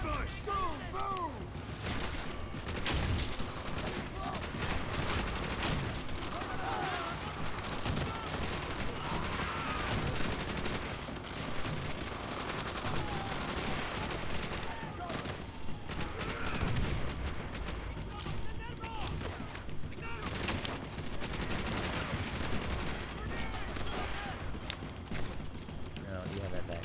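Call of Duty: World at War ambush: dense, continuous gunfire and rattling machine-gun bursts with explosions, loud and relentless, with a voice talking over the battle.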